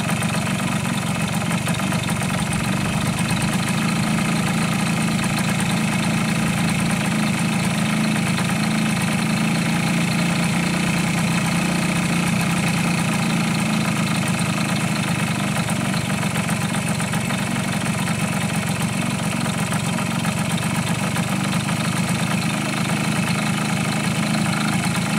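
A Suzuki AX100 motorcycle engine idles steadily at about 1150 to 1450 rpm for the whole stretch, a constant low chugging rumble with no voices and no change in pace.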